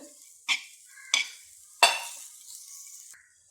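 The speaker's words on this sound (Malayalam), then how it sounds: "തോരൻ ഇടയ്ക്കൊന്ന് ഇളക്കി കൊടുക്കണം വെന്ത് വരുന്നുണ്ട്" Sweet potato leaf thoran is stirred in a cooking pan: three distinct scraping strokes of the spoon over a steady, close sizzle that lingers between them.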